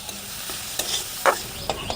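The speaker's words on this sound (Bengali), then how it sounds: "এরপরে কাঁচা লঙ্কা কুচি আর পেঁয়াজ কুচিটা দিয়ে দিচ্ছি। তারপরে কাঁচা লঙ্কা আর পেঁয়াজটাও এর সাথে খুব ভালো করে ভেজে নেব।" Chopped green chilies and onion fry with ginger and garlic, giving a soft steady sizzle broken by a few brisk stirring scrapes, close up and without talk.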